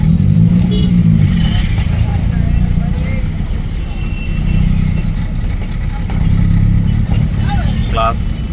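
A car's engine pulls gently in second gear during a driving lesson, its low drone rising and easing with light throttle under an instructor's continuous talk.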